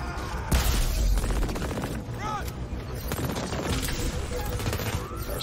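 Gunfire in the video game Crackdown 3, with rapid automatic bursts and bangs packed densely through the clip, loud and close, mixed with game effects and voices talking over it.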